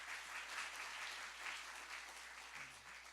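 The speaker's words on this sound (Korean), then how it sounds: "다시 한번 박수로 감사의 뜻을 전하도록 하겠습니다." A forum audience in a National Assembly hall applauds, a broad, sustained wash of many hands clapping at even volume, somewhat distant and faint, with no voices over it.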